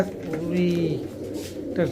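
A racing pigeon's low, throaty coo rolls out close by, a soft warbling call that swells and fades, with a brief voice near the end.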